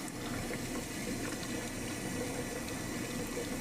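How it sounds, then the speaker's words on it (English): Water streams steadily from the spray head of a Bunn Axiom coffee brewer during calibration, a soft, constant hiss and splash with no change in level and no talk. "You can see the water coming out."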